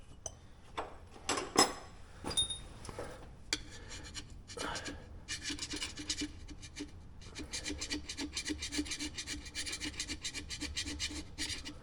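Gasket scraper rasping across an engine gasket surface on a small backhoe engine with a cracked piston, close scratchy strokes that start as scattered scrapes and settle into steady rapid back-and-forth scraping.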